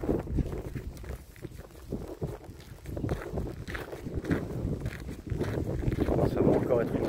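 Wind gusts outdoors buffet the microphone in uneven low rumbles that swell and ease, growing stronger toward the end, heard under a person talking.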